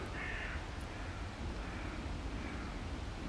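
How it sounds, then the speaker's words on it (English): A crow gives a single faint caw in woods at night in Abbey Wood. It sits far off in the dark beneath a steady hiss of background noise. "A crow."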